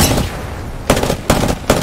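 Gunfire in the video game Apex Legends, heard as three loud, sharp shots spaced roughly evenly apart, each with a short tail, over a rumbling battle background.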